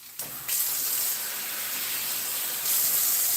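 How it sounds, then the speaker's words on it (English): Water poured into a hot pot of potatoes for a seafood boil, a steady rushing pour with a faint sizzling hiss that holds evenly for about three seconds, up close. "I'm gonna add some water to this."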